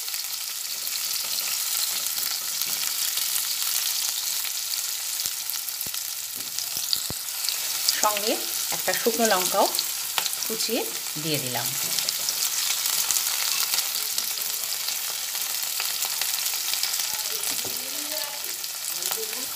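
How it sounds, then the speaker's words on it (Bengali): Garlic and onion fry together with chopped dried chilli in a pan for masala bread, giving a steady close sizzle broken by occasional scraping stirs, while someone talks briefly in the middle. "রসুন পেঁয়াজ দুটোই একসঙ্গে ভাজা হচ্ছে।"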